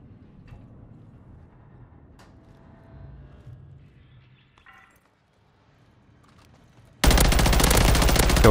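Rapid F2000 rifle fire in a first-person shooter video game erupts suddenly after a stretch of quiet ambient sounds, a loud, dense automatic burst that runs to the end.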